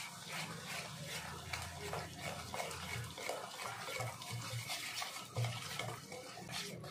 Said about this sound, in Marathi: आता या सगळ्या इन्ग्रेडियंट्सला आपण व्यवस्थित मिक्स करून घ्यायचं आहे.